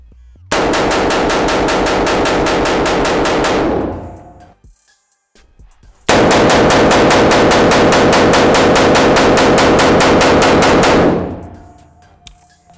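Two long rapid strings of AR-15 rifle gunshots, each a loud, evenly spaced rattle of shots lasting a few seconds, separated by a short pause, with no talking.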